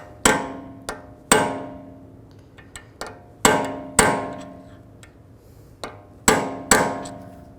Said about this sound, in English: take a punch and you just need to peen over the nut